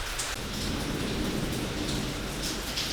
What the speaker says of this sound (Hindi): जितनी देर बारिश हो रही है ना, अगर ऐसे ही सुबह तक होती रही ना तो हर तरफ सुबह पानी ही पानी नज़र आएगा।